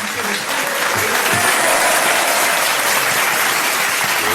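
Loud, dense applause from a folk club audience for a singer, steady and close throughout without voices.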